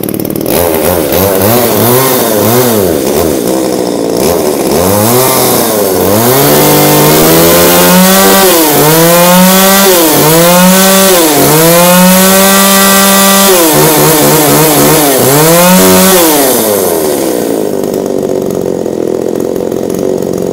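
A used Japanese chainsaw runs loud and close, its two-stroke engine rising and falling through repeated revs over about twenty seconds before settling back to a rough idle, with no talking.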